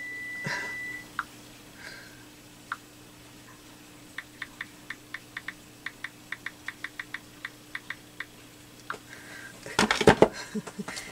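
An oven timer's short, sharp electronic beeps repeating at irregular intervals, moderately loud over a quiet room, ending with a brief burst of clattering noise.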